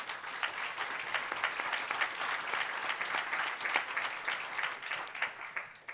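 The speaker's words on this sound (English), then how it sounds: "Please give them a round of applause." A conference audience at an airport business diversity meeting claps steadily and fairly loudly, a dense, even round of applause with no talk over it.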